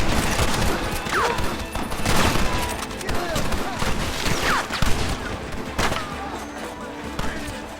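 A Red Dead Redemption shootout with rapid, dense volleys of gunfire and ricochets crackling continuously and loudly, with shouting voices mixed in among the shots.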